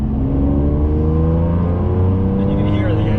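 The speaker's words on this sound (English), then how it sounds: "you can hear the engine. It's got this good growl" A Ferrari 599 GTB Fiorano V12 engine gives a deep, loud growl, holding steady and rich with layered harmonics, rising slightly in pitch as it revs.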